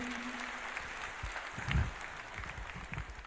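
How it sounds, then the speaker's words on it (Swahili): A church congregation applauds Bishop Ben Kamau with a faint, steady wash of clapping that briefly swells louder midway, with no voices over it. "Leta tupigie bishop wetu makofi mazuri."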